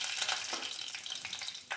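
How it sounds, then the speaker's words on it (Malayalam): Mustard seeds and curry leaves crackle and sizzle in hot oil at the start of a fish curry, a dense hissing fry with small pops, close and steady for a moment with no voices. "കടുക് പൊട്ടി തുടങ്ങിയിട്ടുണ്ട്"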